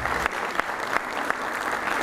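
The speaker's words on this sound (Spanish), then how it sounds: "un aplauso por favor." An audience applauds at a recognition event honoring a film's actors, steady clapping of moderate loudness with a few sharper claps standing out at regular intervals.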